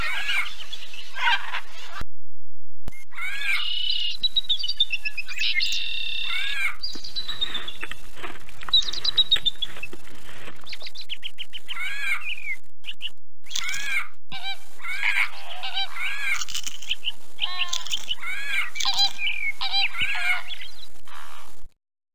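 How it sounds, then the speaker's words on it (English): Wild scarlet macaws squawking from a cliff wall on a sunny morning in the 1993 3DO game It's A Bird's Life: many bright, harsh bird calls overlapping in a dense, continuous chorus. "The parrots awoke to a sunny morning and the sound of squawks. The cliff wall was covered with wild scarlet macaws."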